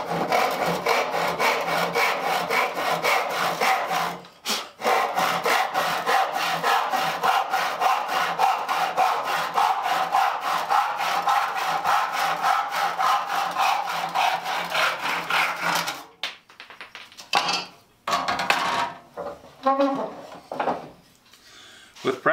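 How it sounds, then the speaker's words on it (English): A hand saw rasps steadily through a wooden board in continuous back-and-forth strokes, close by, then slows to a few scattered scrapes and pauses near the end. "if you're just starting out sawing and you're having trouble getting a straight cut,"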